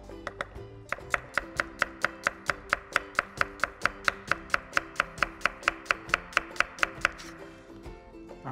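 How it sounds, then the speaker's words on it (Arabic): Knife slicing onion into thin strips on a cutting board, a steady rapid run of about thirty crisp, evenly spaced chops, close and clear with no talking. "رح نقطع البصل لشرايح"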